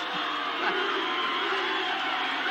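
A distant, steady stadium crowd roars and cheers at Lang Park in 1988 as the NZ Presidents XIII rugby league side takes the field, a continuous wash of noise with no talk over it.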